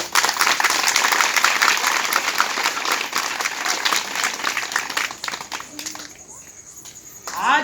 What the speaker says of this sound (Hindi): जोरदार तालियां दीजिए